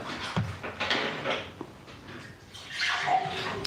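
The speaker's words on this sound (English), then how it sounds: "I love a good pouring of a drink." Lemonade poured into a glass during a Nando's meal: a bright, fizzing splash that swells near the end, set among soft knocks and clatter at the table.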